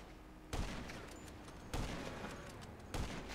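Three sharp gunshots crack at even intervals in the GTA 5 Online video game, each a sudden loud bang followed by a brief decay, with no talking over them.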